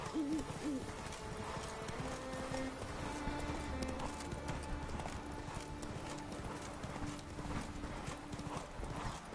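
Horse Roach galloping across a mountain in a video game: steady clip-clop hoofbeats run throughout under a dense game soundscape with music, faint hoots and a brief whinny.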